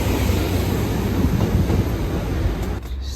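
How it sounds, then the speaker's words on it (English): A train pulls out of St Budeaux Victoria Road station on the Gunnislake Tamar Valley line in Devon, a loud, steady rumble and rattle of wheels on track that begins to fade near the end, with no talking. "Train just leaving."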